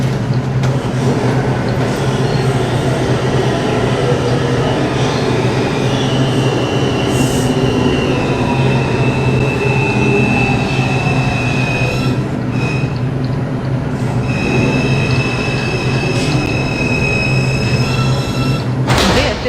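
An MTA New York City R142 subway car on the 5 line runs loudly and steadily, with constant wheel rumble and rattling and a high squealing of wheels on the rails through curves.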